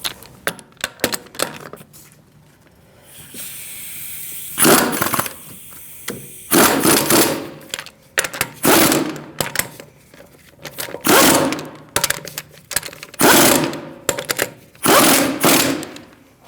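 Wheel lug nuts on a 2008-2014 Mercedes-Benz C300 are snugged up with a power tool in repeated short, loud ratcheting bursts separated by pauses.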